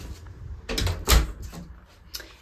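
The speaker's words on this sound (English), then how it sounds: "We can open this door, let the dogs out." A household door is opened during a thrift haul at home, with a soft latch click and a low, muffled thump and rustle close by, over a quiet room background.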